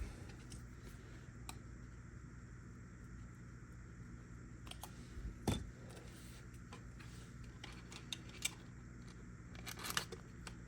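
Scissors cut a plastic hardbody crawler body to fit its windows. Quiet, scattered snips and crackles come close up over a faint background hum, with a few sharper snaps near the middle and end.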